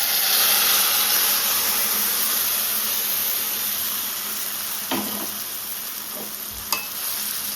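Bottle gourd curry hits a pan of onions browned with chillies and curry leaves, and a loud steady sizzle fills the whole stretch with a few clinks of a spoon stirring near the end.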